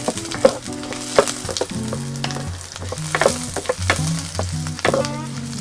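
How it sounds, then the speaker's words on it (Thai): Garlic frying in hot oil in a wok at the start of a Thai stir-fry of beef with shiitake mushrooms, a close, steady loud sizzle with clinks and scrapes of stirring, no voices. "เริ่มต้นเราก็เจียวกระเทียมกันเช่นเคย"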